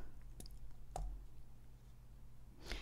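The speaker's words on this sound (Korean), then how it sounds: "마우스 오른쪽 버튼 눌러서" A couple of faint, sharp mouse clicks over a quiet low hum, spaced apart, with a soft click near the end.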